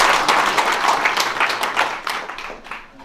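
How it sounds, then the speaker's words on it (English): Loud, close applause fills a township meeting room, many hands clapping in a dense burst that gradually thins and softens toward the end. "I applaud you."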